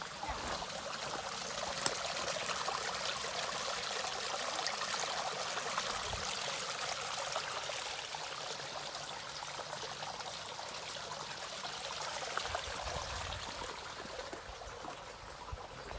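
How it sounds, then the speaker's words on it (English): A small water stream trickles along the Appalachian Trail near Quarry Gap Shelter in Pennsylvania, a soft, steady, continuous babble heard alone with no talking. "listen to that water sound."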